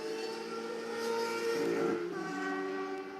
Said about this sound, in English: I think that was a motorcycle racing by.